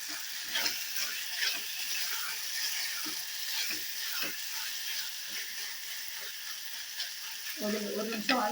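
Tomatoes with mint and coriander sauté in a pan for tomato rice, a soft continuous sizzle with light scraping stirs and a brief clatter near the end, moderately quiet and close.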